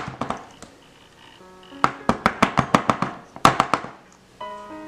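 A cake pan of batter tapped on a kitchen counter: several sharp, close knocks, a short pause, then a rapid run of about a dozen evenly spaced taps with a ringing metallic tone.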